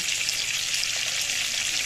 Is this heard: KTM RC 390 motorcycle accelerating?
no